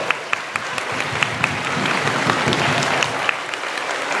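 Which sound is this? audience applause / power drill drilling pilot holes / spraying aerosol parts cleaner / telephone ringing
audience applause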